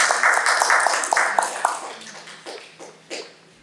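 Applause at a club meeting after a member shares his Never Have I Ever story, dense clapping at first that thins into a few scattered claps and fades out.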